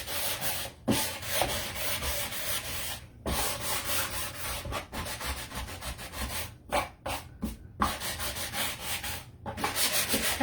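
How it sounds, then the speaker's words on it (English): Steady back-and-forth rubbing of sandpaper on the wooden spindles of a secondhand shelf, close and continuous with short pauses between strokes. "It's kind of hard to sand the spindles"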